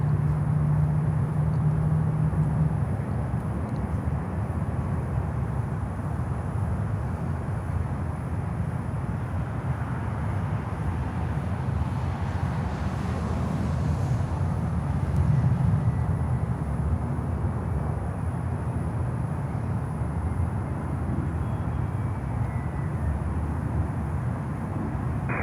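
A FlexJet Challenger 300 business jet comes in to land on runway 8 at Miami airport, a steady broad engine roar holding at constant level throughout, fairly distant with no clear pass-by peak.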